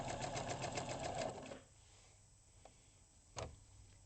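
A sewing machine runs a fast, even stitching burst along a pocket seam for about a second and a half, then stops, followed by a couple of faint clicks and a knock.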